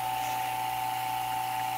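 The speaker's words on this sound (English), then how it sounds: "it's hard for my vacuum pump to suck the air out of this thing" A vacuum pump working to evacuate a very large vacuum chamber in a science classroom, a steady loud mechanical drone with a constant whine and no change over the stretch.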